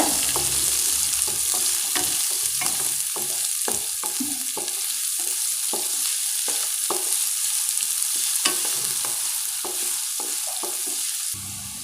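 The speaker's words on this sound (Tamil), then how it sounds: "இப்போ நாம் வெங்காயத்தை சேர்த்துடலாம். எல்லாத்தையும் நல்லா வதக்கிக்கோங்க." Onions and curry leaves sauté in a pan, giving a continuous hissing sizzle broken by frequent scraping strokes of a spatula, steady and fairly close throughout.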